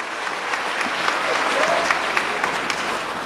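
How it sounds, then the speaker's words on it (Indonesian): Enthusiastic audience applause at a sales seminar, dense steady clapping from a crowd, fairly loud and continuous throughout with a few sharper claps standing out. "kasih tepuk tangan yang meriah, Ibu"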